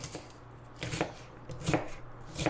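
An onion is chopped with a knife in a rough, camping-style manner, giving about four crisp blade strikes against a board in an uneven rhythm, close and fairly quiet, with no talking.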